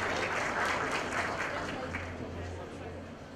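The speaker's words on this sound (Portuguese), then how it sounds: "Uma salva de palmas para ele também." Steady audience applause at a business conference panel on conversational bots, a dense continuous patter of many hands that slowly tapers off, with faint voices mixed underneath.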